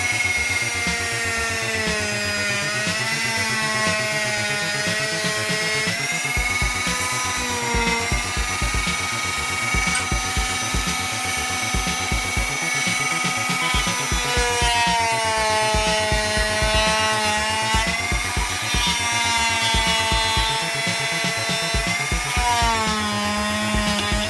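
A Dremel rotary tool sands wooden beads with a steady high-pitched motorized whine and gritty grinding that rises and dips in pitch as pressure changes, loud and continuous throughout with no voices.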